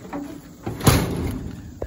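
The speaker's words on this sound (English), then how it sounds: "Door requires a slam." The door of a 1955 Chevrolet 3100 short-bed stepside truck slams shut once with a single solid thud, heard close and alone.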